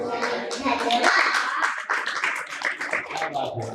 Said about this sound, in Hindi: एक बार और ताली बजा दी जाए।